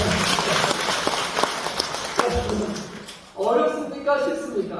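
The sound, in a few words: audience applause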